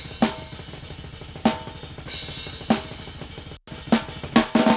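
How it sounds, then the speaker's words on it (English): Snare drum track from a death metal multitrack recording with a higher than usual tuning: sharp, ringing snare cracks land roughly every second and a half over constant low bleed from fast kick drumming, with a brief dropout near the end. "Here's the snare."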